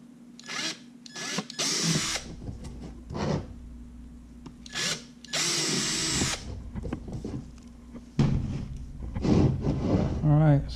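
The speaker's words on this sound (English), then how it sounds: "You want to use a 1/8 inch drill." Bursts of a small power drill boring with a 1/8 inch bit while making a sun visor for a Garmin Striker 4 fish finder, several short whirring runs of a few seconds each with quiet gaps and brief talk between.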